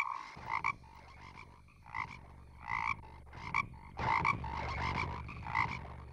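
A toad croaks in a dense forest, a run of rough, pulsing calls repeating in irregular bursts over a low steady background, fairly close and moderately loud.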